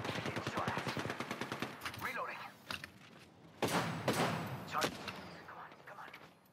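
Rapid automatic gunfire in a first-person shooter game, a fast burst of shots followed by scattered heavier single reports, with players talking over the action.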